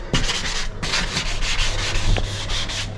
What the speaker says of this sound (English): You can then use your 400 grit pad or sheet that you're going to use and start giving it a light rub over